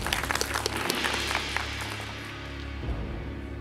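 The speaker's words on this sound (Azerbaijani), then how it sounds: "108 və 8 nəfəri biz alqışlayırıq." Audience applause on a quiz show, a steady wash of many hands clapping that begins loud and dense, thins slightly midway, then swells again toward the end.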